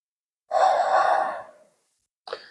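A long, breathy exhale during a yoga pose, heard close and alone, followed by a short breath intake after a pause.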